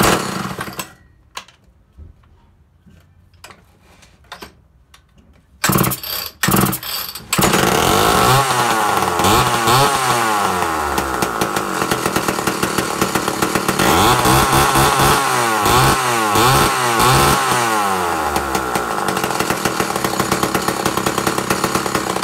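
A vintage Lombard AP42 chainsaw with a 16-inch chain has a few sharp pull-start attempts and then roars into loud, steady running, its engine revving up and down close by for a long stretch.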